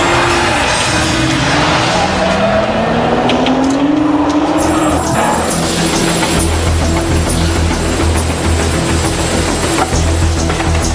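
A Nissan GT-R accelerates hard with a rising engine note that climbs and then cuts off, followed by a sustained low roar and layered mechanical noise, loud and close.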